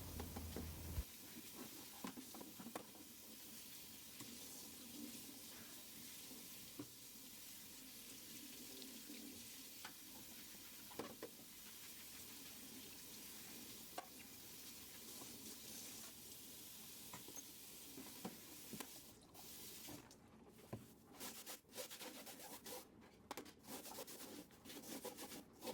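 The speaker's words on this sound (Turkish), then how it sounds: "Bir de musluk altında telle ovalıyorum." Steel wool scrubs a stove burner under a running tap, a steady faint water rush with scratchy rubbing textures, quieter and broken up toward the end.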